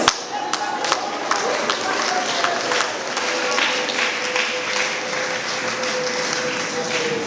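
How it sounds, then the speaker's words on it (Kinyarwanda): A church congregation claps together in dense, even applause that carries on throughout, with a few sharper claps standing out at the start and a faint sustained tone underneath. "turagushimiye mu gitondo cy'umunsi, tuguhaye amashyi"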